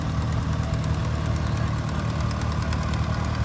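A tractor engine idles at a small-town tractor parade, with a Dodge among the machines, giving a loud, steady, close rumble with even rhythmic pulsing throughout.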